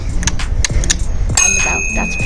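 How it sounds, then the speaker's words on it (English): A bicycle bell on a Claud Butler Haste low-step mountain bike rings once, bright and close, its metallic tone lingering after a few earlier light ticks and clicks. "the bell and the clicking. I like that."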